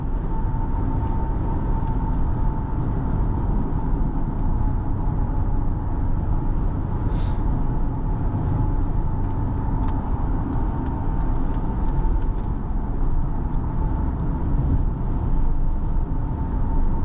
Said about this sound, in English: I can never get tired of the sound of a naturally aspirated Honda or Acura V6